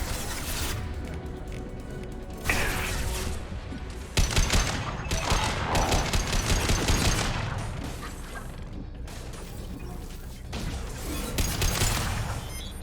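A hacked automated light-weapon turret opens fire in Mass Effect, rapid bursts of gunfire rattling over loud battle noise, with impacts and a clipped synthetic voice in the mix.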